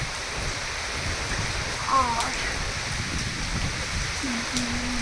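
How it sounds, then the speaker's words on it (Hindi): Heavy rain falls steadily beside an amla tree outdoors, a loud continuous hiss with a brief spoken word over it. "झमझमाझम बारिश हो रही है"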